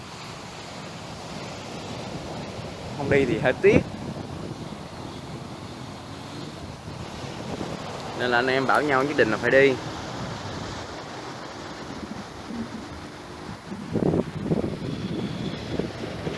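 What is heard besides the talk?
waves breaking on rocky shore, Phan Thiết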